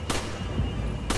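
Two sharp pistol gunshots in the video game Resident Evil 5, one at the start and another about a second later, separated by a brief low rumble.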